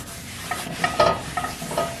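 A cast iron pan being cleaned after cooking eggs, with a short run of scraping and scrubbing strokes against the iron, close and moderately loud, and no talk.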